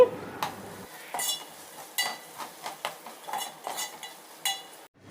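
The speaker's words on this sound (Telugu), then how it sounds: "టమాటాలు సాఫ్ట్గా అయిపోయిన తర్వాత ఇందులోకి కొత్తిమీర పుదీనా కూడా వేసుకొని ఫ్రై చేసుకోవాలి" Tomatoes with coriander and mint are stirred while frying in a pan, with a series of sharp spoon clinks and scrapes against the metal over a faint, low sizzle.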